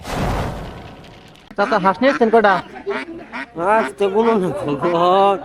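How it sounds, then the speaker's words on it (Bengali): Ducks at a busy poultry market quack in a string of nasal, honking calls that follow a brief burst of rough background noise, close and fairly loud. "এ পাশে আরো কয়েকটি হাঁস দেখতে পেলাম"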